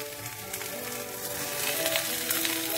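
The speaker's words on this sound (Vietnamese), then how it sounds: "Vừa chiên cá" Fish frying in a pan gives a steady, close crackling sizzle with dense spitting pops that runs unbroken throughout, with no talking.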